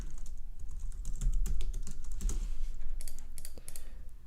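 Typing on a computer keyboard while entering text into a web design tool, a steady run of close, quick key clicks with a few louder strokes, no voices.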